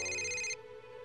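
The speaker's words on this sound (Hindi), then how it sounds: "ये किसका फोन है?" A telephone rings briefly in a library, a bright electronic trill that cuts off after half a second, leaving a faint hum.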